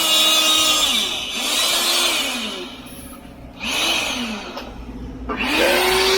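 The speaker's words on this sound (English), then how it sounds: "Jim's cutting some rebar" A rebar cutter on a concrete tear-out job whines loudly and close up, its motor pitch rising and falling through several cutting cycles, with harsh grinding bursts as each bar is cut.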